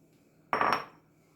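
Boiled moong dal and chana dal dropped into a bowl give a single short clattering clink of dish and spoon, close and clear, then fade into quiet.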